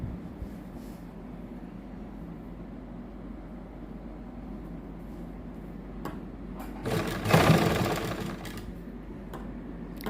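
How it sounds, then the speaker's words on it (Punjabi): A sewing machine stitches across the center of a fabric flower on a sleeve design, a steady close whirring run that swells louder for a brief burst near the end. "ਫਲਾਵਰ ਦੇ ਬਿਲਕੁਲ ਆਪਾਂ ਸੈਂਟਰ 'ਚ ਸਲਾਈ ਲਾਉਣੀ ਆ"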